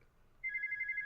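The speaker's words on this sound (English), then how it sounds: "That's my phone ringing." A telephone starts ringing partway through, a faint, quiet trill of rapid electronic pulses after a near-silent opening.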